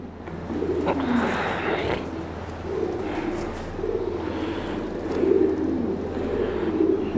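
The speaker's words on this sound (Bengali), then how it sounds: "এই দেখেন আমার একটা মুখী কবুতর" Domestic pigeons, one recovering from pox treatment, give soft repeated low coos in a loose rhythm at close range, with a faint background hum and brief rustling early on.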